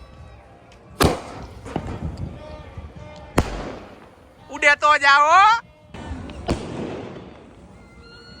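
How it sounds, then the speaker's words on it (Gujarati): Firecrackers set off during an Uttarayan kite festival celebration in Morbi, with several loud sharp bangs spaced a couple of seconds apart and a whistling rocket, while people talk and shout nearby. "ફાઇનલી મિત્રો ફટાકડા ફોડવાનો સમય આવી ગયો છે"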